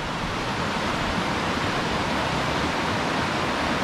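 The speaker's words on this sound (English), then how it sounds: "I don't know if you can hear me with the river running" A river rushes steadily beside Fred Dibnah's house, near the flagpole. It is a dense, even wash of water noise, close and unbroken, with no talking.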